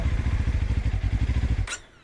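The engine of a QJMotor SRT 450 RX, a 450 cc motorcycle, idling with a close, rhythmic low thumping pulse that stutters and dies away near the end, followed by a brief clatter.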